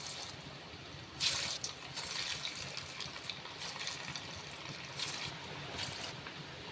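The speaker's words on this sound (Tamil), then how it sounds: "மீடியம் ஃப்ளேமில் வச்சு பொரிச்சிக்கோங்க." Small vadai frying in moderately hot oil on a medium flame, a steady close hiss and bubbling crackle that swells slightly as more batter goes in.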